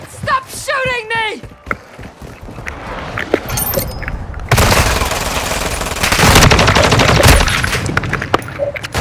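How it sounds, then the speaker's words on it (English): Rapid automatic gunfire and explosive bursts from Call of Duty: Modern Warfare II fill the mix in dense, loud volleys. The barrage follows a brief spoken line at the start and a short lull. "Stop shooting me!"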